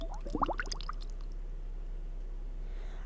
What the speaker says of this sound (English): I lowered my head into the water ever so slightly, letting bubbles in the water with my mouth.